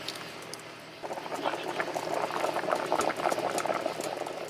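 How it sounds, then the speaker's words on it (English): Pot of beef with carrots and celery simmering on the stove, a steady bubbling and popping that swells from quiet to a dense, continuous boil after the first second, close and alone with no talk. "We're going to let this simmer till the carrots and celery are soft"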